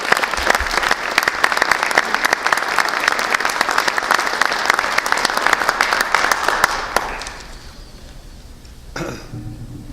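Sustained applause from a crowd at a ceremony honoring Korean War veterans, dense and steady clapping for several seconds before it dies down, followed by a cough and room noise.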